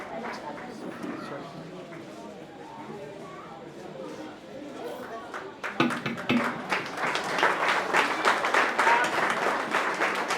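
Audience clapping at an ASWA sixth anniversary celebration, starting faint under chatter, then swelling suddenly into loud, sustained applause for the second half.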